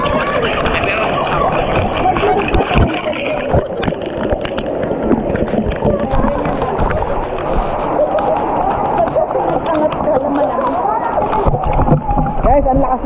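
Heavy rain pours onto an outdoor resort swimming pool in San Jose, Occidental, a dense, steady splashing hiss that runs the whole time while people talk and call out over it nearby.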